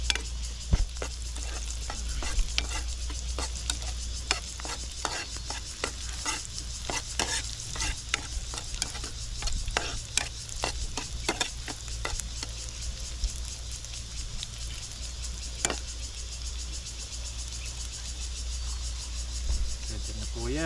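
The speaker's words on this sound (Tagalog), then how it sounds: "Tunugin natin konti para maglasa sila. Maglasa yung ano natin, sibuyas, bawang at luya." Onion, garlic and ginger sauté in a pan with a constant close sizzle and frequent crisp crackles. Stirring scrapes sound over a low steady hum.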